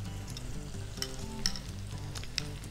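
Paella ingredients sizzle steadily in a hot pan while being stirred briskly, with a few sharp scraping clicks of the utensil against the pan over the continuous frying hiss.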